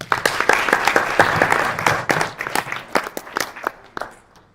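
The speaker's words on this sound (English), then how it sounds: "Give them a round of applause." A small audience at a bioeconomy panel claps after an introduction, close and distinct individual hand claps that build briefly, then thin into sparse claps and fade out.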